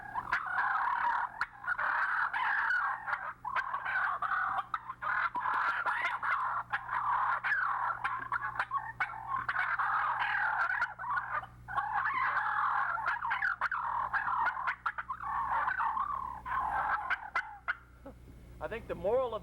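Imitated gobbler fight, a voice mimicking wild turkeys' excited purring and clucking in a dense, continuous run of calls, loud and close throughout, with rapid rolling bursts and brief pauses.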